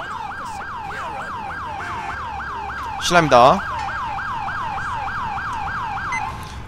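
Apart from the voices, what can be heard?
police siren in a video game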